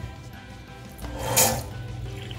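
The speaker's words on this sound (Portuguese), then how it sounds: "Torneira estilo cascata" A cascade-style faucet runs water into a bathroom sink basin in a suite, a steady close splash that swells briefly midway, with no talk over it.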